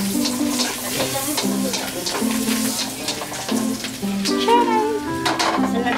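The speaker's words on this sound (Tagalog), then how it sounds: "Sinagay ng atong bombay." Onion frying in a pan while cooking carbonara, a steady sizzle with stirring clatter under background music and occasional voices.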